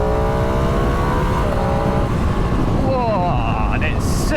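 2022 Ducati Streetfighter V2 engine pulling hard on a bumpy road, a rising harmonic engine note climbing in pitch under wind roar, with a brief revving sweep near the end.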